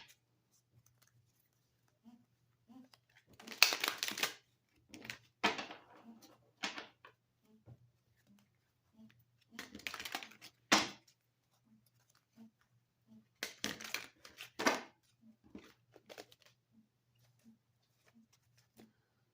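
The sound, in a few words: shuffling tarot cards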